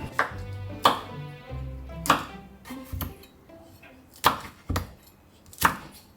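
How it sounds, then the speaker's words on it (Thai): A knife chops chili peppers on a cutting board in about seven sharp, unevenly spaced knocks, close and crisp, with quiet gaps in between. "แล้วเรานำพริกมาหั่น"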